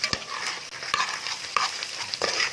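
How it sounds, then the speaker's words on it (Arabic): Moussaka mixture being stirred in a pan with coriander: soft scraping strokes and a light sizzle, a few sharper spoon knocks against the pan, close and fairly quiet, no talking. "نقلب كويس قوي كده"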